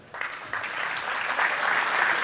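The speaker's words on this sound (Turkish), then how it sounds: "O açıdan bir kendinizi alkışlayın." An audience applauds itself at a Rize promotion days event in Istanbul, steady dense clapping that starts abruptly and swells slightly louder, filling the hall.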